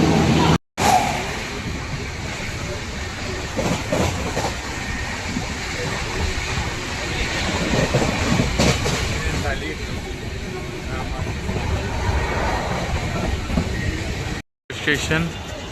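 A passenger train at a station's platform 1 gives a continuous low rumble with clanks and thuds from the cars, steady and fairly close, with voices in the background.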